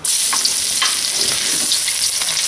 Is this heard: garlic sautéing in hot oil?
yes